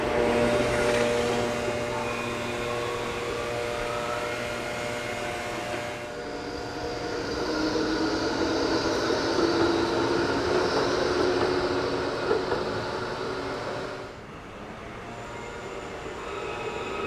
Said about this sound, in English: went out to the tram stop on MacArthur Street and filmed a few trams while I decided what to do next